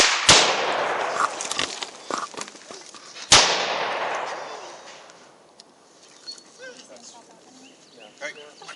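A police SWAT standoff in Charleston, South Carolina, where a suspect fires and a SWAT officer fires back: two sharp, loud gunshots about three seconds apart, each with a long echoing tail, under a steady hiss of noise and faint voices.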